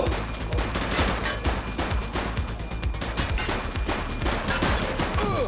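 Sustained bursts of gunfire from a police shootout in the video game The Precinct, rapid overlapping shots and automatic fire filling the whole stretch, loud and dense with no pauses.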